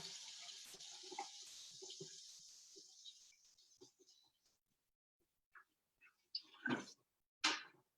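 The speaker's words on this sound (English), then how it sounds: "I'm just going to wash my spatula" Spatula washed under a running kitchen tap in a cooking demonstration, a steady close water stream that fades out, followed by a few separate clinks and splashes near the end.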